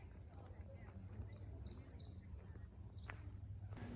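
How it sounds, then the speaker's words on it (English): Songbirds at Bok Tower Gardens in Florida, faint, high chirps and rising whistled calls repeating over a soft outdoor hum, with a light insect buzz in the background. "It's a really nice place to just enjoy the nature and hear the birds singing."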